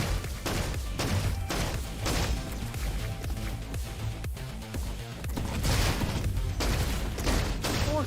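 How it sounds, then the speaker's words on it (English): Hand cannon blasts in the first-person shooter Roboquest, heavy booming shots in quick succession over dense, continuous game music and effects, loud and close throughout. "A little hand cannon blast."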